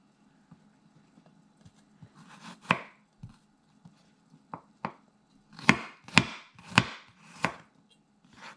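Knife chopping garlic on a cutting board while making cashew chicken stir-fry, a sparse scattering of light taps that builds into a run of sharp, close, loud chops near the end, with no talk.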